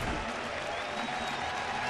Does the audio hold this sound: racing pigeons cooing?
no